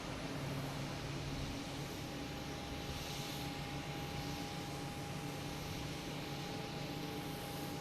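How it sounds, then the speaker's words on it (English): A Lufthansa Airbus A340 begins its takeoff roll at Boston Logan Airport, heard as a faint, steady distant jet roar with a constant high whine under broadband noise. "So here goes Lufthansa, the A340."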